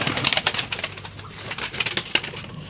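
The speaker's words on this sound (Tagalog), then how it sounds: "Guys, magpapalipad kami kalapate." Pigeons stir and flap close by, giving a busy run of sharp wing claps and rustling bursts with faint cooing under them. Nobody speaks.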